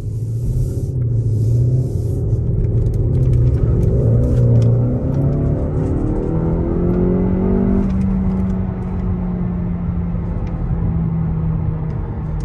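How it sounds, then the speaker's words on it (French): A Skoda car engine revs up steadily while accelerating onto a highway, its pitch climbing through the gears, then settles into a sustained loud cruising drone with road rumble. "Tu vois ces sons de moteur là?"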